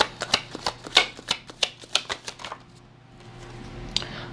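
Tarot cards shuffled by hand during a card reading, a quick run of crisp, close riffling snaps in a steady rhythm that stops abruptly, leaving a faint quiet hiss.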